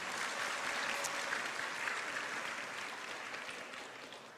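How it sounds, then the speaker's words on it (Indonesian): Audience applause at a question-and-answer session with high school students, continuous crowd clapping that lasts about four seconds and slowly softens. "Tepuk tangan buat yang masuk politik nih."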